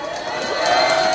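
Crowd at an outdoor student rally at a Seoul university, a loud continuous roar of cheering and applause with shouts blended in, steady and building slightly.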